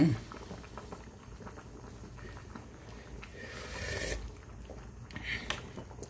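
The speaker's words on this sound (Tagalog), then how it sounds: "Ayan na guys, kulong-kulo na." A pot of sinigang na isda, Filipino fish soup, bubbling at a rolling boil with soft irregular popping and patter; a voice speaks briefly near the start.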